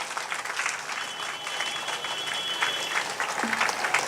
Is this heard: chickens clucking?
no